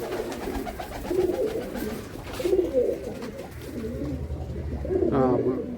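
Soft, low pigeon cooing repeats in gentle rounds nearby, with a person talking over the birds.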